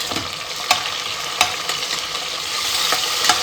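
Green chillies and onion fry in a pan of oil for veg pulao, a steady close hiss with a few sharp stirring clinks against the pan.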